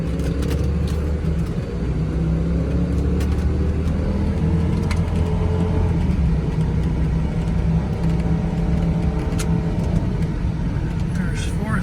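A 2002 Ford Thunderbird with a five-speed shiftable automatic pulls steadily from inside the cabin, the engine droning low and continuous as the transmission moves up a gear, with someone talking over it.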